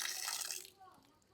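Water gushes strongly out of a pipe for a moment, then drops off abruptly to a quieter trickle.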